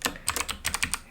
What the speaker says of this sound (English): begin typing